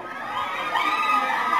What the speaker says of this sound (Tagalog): Sigawan ng mga fans nila ang nag-abang dyan.